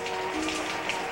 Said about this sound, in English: sorry I didn't hear you in all this rain.